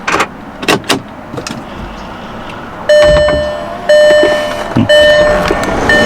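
A Volkswagen Touareg TDI high-pressure fuel pump priming, humming with a steady whine after some clunks and clicks, cutting in and out in bursts, close by with no talking.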